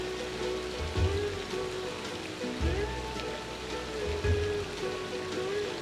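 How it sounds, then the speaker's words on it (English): Steady splashing and running water from a water feature in a tropical resort atrium at Universal Orlando's Royal Pacific Resort, continuous and fairly close, with faint background tones mixed in. "And then you have this beautiful water feature."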